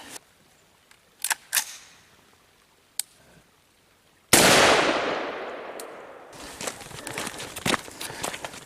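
A single loud AR-15 rifle shot fired at hard drives cracks sharply and rings off, followed by scattered clicks, handling knocks and shuffling outdoors.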